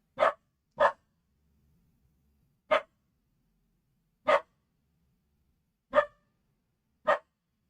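A dog barks six times with uneven pauses between, fairly close and loud, with silence in between.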